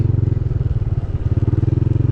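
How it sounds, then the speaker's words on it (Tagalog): A Yamaha NMAX motor scooter rides along with a steady, close engine drone and rhythmic pulsing hum, with no talking. "ang gamit pala natin itong motor na NMAX"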